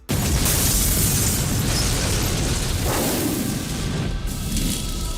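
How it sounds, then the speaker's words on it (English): A vehicle with a punctured, leaking gas tank explodes inside a warehouse in the 1994 game Zero Tolerance, a loud sustained roaring blast with rumbling debris that fades slightly toward the end. "He drives it into the warehouse and leaps out as it explodes."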